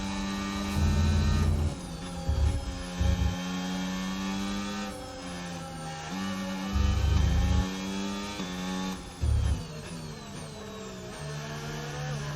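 Engine notes of Formula 1 cars in the F1 25 racing game at the Qatar Grand Prix, high revving whines rising and falling steadily as one car overtakes another, with several short low thumps.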